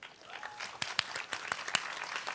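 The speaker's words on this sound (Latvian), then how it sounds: "Pašiem aplausi par to." An audience at a youth school graduation ceremony claps, a steady round of applause with a few sharper individual claps standing out, moderately close.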